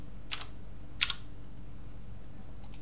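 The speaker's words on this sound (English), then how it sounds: "So I've got the code right here. I just type it in," A few isolated key taps on a computer keyboard entering a verification code, sparse and soft clicks separated by pauses, heard close against a quiet room hiss.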